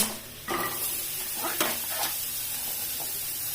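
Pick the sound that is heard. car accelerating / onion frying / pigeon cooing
onion frying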